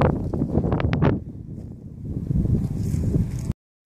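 A small headwind gusts across an outdoor disc golf course, buffeting the microphone with loud low rumbling that eases briefly in the middle and then swells again before cutting off abruptly, with no talking.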